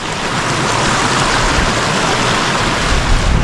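Cold, clear stream water flows at Upper Diyaluma falls in Sri Lanka, a loud continuous rushing wash close by that persists steadily with no talking.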